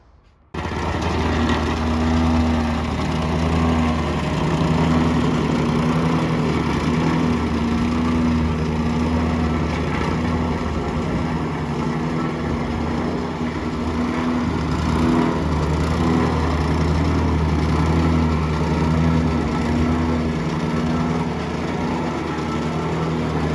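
A petrol plate compactor (whacker) runs steadily over a block-paved driveway being finished with sand, a loud, continuous engine drone with rattling vibration that holds throughout, with no talk.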